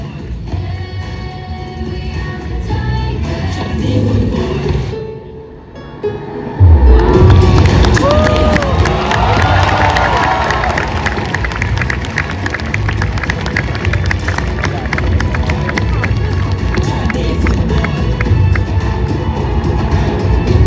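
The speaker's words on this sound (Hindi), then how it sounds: "I think these children deserve a louder round of applause." A large crowd claps and cheers loudly for a group of children at a meeting with India's Prime Minister. A brief lull is followed by a sustained, roaring surge of applause and cheering that holds to the end.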